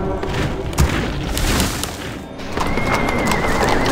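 Horses in the Warcraft 3 video game whinny loudly amid combat crashes and impacts, with battle noise continuing throughout the short scene.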